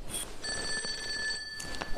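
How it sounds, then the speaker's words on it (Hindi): A telephone rings indoors in a home, a bright electronic trill sounding in two short bursts, fairly clear with quiet room noise behind it. "दिशा का फोन है"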